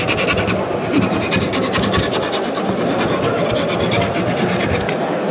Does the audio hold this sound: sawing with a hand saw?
yes